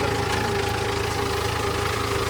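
A tractor engine idles nearby, a steady, loud, low rumble with an even mechanical throb and no break.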